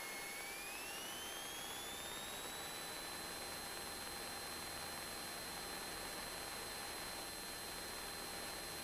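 A loud, steady small-plane engine drone during takeoff that rises in pitch at first, then holds a constant whining roar.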